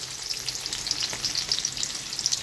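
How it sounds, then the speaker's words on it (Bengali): Onions sizzle and crackle steadily in hot oil in a wok while rohu fish is being cooked, a close, even hiss of frying with faint stirring scrapes and no talk. "কড়াইয়ের মধ্যে তেল দিয়ে তেলের মধ্যে পেঁয়াজ দেবো"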